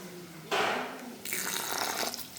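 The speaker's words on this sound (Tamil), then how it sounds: "இதில் வந்து பருப்பு ஊற வச்சலாம் தண்ணியும் எடுத்து போட்டு" Water poured into a bowl to soak lentils in a home kitchen, a short splashing gush that begins abruptly, pauses briefly and then continues as a steady trickling pour.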